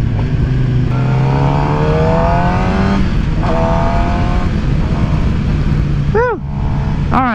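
A 2017 Suzuki GSX-R750 sport bike engine revs hard through rising gear pulls on a demo ride, the loud climbing whine broken by shifts. Wind noise sits underneath, and two quick rev blips come near the end.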